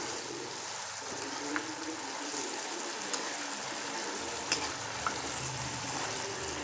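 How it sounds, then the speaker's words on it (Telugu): Pieces of food are stirred and tossed in a sizzling pan, with a steady frying hiss and a few sharp clicks of the utensil against the pan, close and without talk. "ఒకసారి మళ్ళీ కలుపుకోవాలి"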